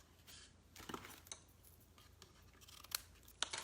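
Scissors snip through washi tape while a card is being made, giving a few faint, quick cuts spaced across a quiet room, with sharper clicks near the end.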